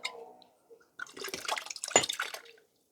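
Water sloshes as it is swirled inside a glass wine bottle and then glugs and splashes out in a short close burst after a brief pause, with no talking.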